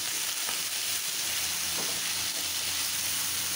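Egg frying in a pan with ground coriander and a little salt, a steady, dense sizzle with faint stirring clicks, close and continuous throughout.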